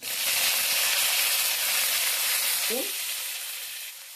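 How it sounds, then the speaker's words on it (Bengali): Dry red chillies and panch phoron spices fry in hot oil with a steady loud sizzle, which briefly shifts near the end as prunes are dropped into the pan. "গরম তেলে শুকনো লঙ্কা আর পাঁচফোড়ন সম্বার দিলাম এটা ভাজা হয়ে গেছে"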